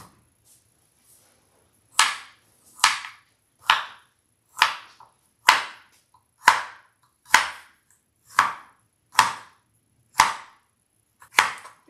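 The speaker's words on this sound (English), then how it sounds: "Let's get started by chopping our garlic and mincing it." A kitchen knife chops and minces garlic on a cutting board for a Greek chicken recipe: about eleven crisp, evenly spaced strikes, close and fairly loud, with no talking.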